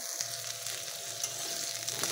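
Vegetables such as long beans and radish fry in hot oil in a pan, giving a steady close crackling sizzle with small pops throughout and no speech.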